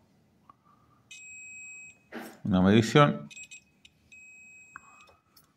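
A multimeter on diode test beeps with a thin, steady buzzer tone on a refrigerator's electronic board. Spanish speech cuts in between the beeps.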